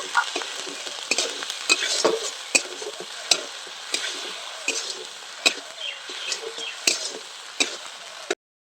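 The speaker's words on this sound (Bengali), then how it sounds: "এবার সর্ষে আর পোস্তর বাটাটা আমি দিয়ে দিচ্ছি। আরও কিছুক্ষণ খুব ভালো করে আমি নেড়ে নেব।" Mustard and poppy seed paste is stirred in a hot pan for shukto, a soft frying sizzle punctuated by regular sharp scrapes and taps of the spoon against the pan, with no talk.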